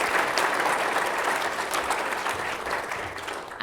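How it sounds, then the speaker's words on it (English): Audience applauding speakers after a panel discussion on climate finance, a steady dense wash of clapping from a sizable crowd that holds for several seconds and tapers slightly at the end. "if you please join me in a round of applause"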